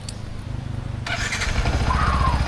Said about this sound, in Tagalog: Hiramin ko itong motor ni Kabungot.